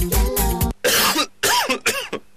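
A series of harsh, wet coughs from someone with a bad flu, about four bursts in quick succession, loud and close, the first heavy and chesty, the later ones shorter and rasping.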